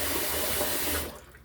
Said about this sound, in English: A little more water in the old sink here.